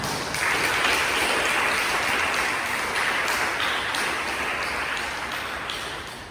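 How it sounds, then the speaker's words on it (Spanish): Applause from a church congregation during a sermon, a broad, sustained wash of clapping at moderate volume that fills the room evenly and fades slowly toward the end. "¿Le podemos dar un aplauso más al Señor?"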